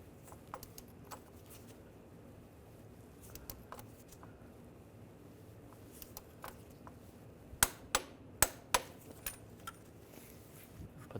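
A torque wrench tightens a starter bolt to 55 on a 2005-2010 Volkswagen Jetta 2.5L, producing a quick series of about five sharp, close metallic clicks after a quiet stretch of faint handling noise.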